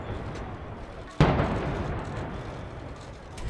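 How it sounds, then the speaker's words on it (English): Police percussion grenade during a hostage siege at a Paris supermarket, a single sharp, heavy blast that cuts through distant ambient noise and then fades into a lingering rumble. "police commandos suddenly swung into action. First with percussion grenades."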